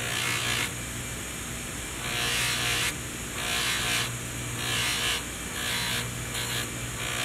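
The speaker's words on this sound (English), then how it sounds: "we're going to continue polishing" A jewelry polishing machine buffs a piece with compound, its motor whining steadily and close while the pitch rises and drops in repeated bursts as the item is pressed to the wheel.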